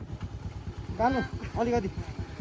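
A scooter engine putters steadily at close range while riding, with a couple of brief voiced calls rising over the motor.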